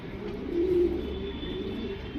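A male makshi pigeon of old lineage coos in short, throaty bursts close by, with a steady low rumble of room noise underneath.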